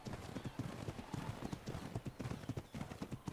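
Rapid, steady clip-clop of horse hooves trotting across ground in the survival game Ark Survival Evolved on the Valguero map, close and fairly loud with a faint whinny in the mix.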